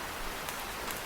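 Steady cartoon rain pours down as a continuous broadband hiss, alone with no voices, across the whole short stretch.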